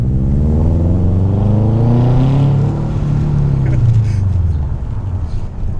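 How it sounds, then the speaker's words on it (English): A 2006 Subaru WRX STI fitted with an external wastegate, its engine droning loud and close inside the car, revs rising and falling steadily through the gears as it accelerates. "It's so hard not to get into throttle too much."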